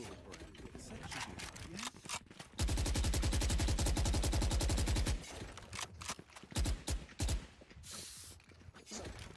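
Gunfire in Valorant: a sustained rapid burst of automatic shots lasts about two and a half seconds, then a few separate loud shots follow, with a voice talking in the gaps.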